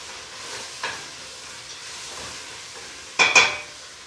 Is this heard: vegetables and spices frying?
yes